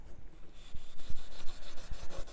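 Steel wool rubbed over a patinated copper surface gives a steady scratchy scouring with a few sharper scrapes, close and fairly loud throughout, with no voices.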